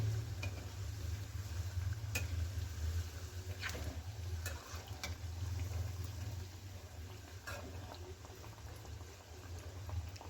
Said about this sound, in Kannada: ಎರಡು ಕಡೆಯೂ ಚೆನ್ನಾಗಿ ಫ್ರೈ ಆಗೋ ಥರ ತಿರುಗಿಸಿ